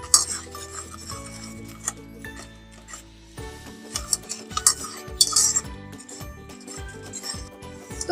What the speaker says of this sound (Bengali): তো এই মশলাগুলো একটু ভালোভাবে কষিয়ে নেব